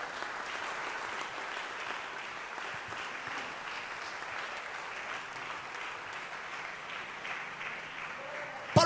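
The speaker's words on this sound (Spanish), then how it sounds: "Dale un aplauso al Señor." A church congregation applauds during a sermon, a sustained wash of many hands clapping at moderate distance, steady for several seconds before a brief louder knock at the very end.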